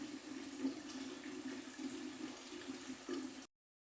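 Water poured from a jug into a pot of falsa sherbet, a soft continuous splashing and gurgling pour that runs evenly for about three and a half seconds and then stops abruptly.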